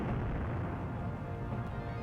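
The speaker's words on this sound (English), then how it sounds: "This sound isn't thunder, it's explosions." Explosions in the Sega Saturn video game Sakura Wars, a dense continuous low rumbling boom that holds steady and loud throughout, with no talk over it.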